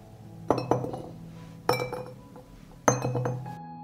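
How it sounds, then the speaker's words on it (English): Garlic cloves drop one by one into clean glass jars, giving several sharp glassy clinks with brief ringing, in three separate close groups. "I add a clove of garlic to each jar."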